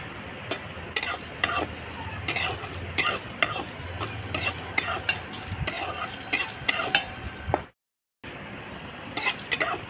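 Whole pānch phoron seeds, including cumin, fennel and black cumin with a little fenugreek, being fried together and stirred in a pan, heard as repeated light scraping clinks of a spatula against metal, fairly close, with a brief silent gap near the end.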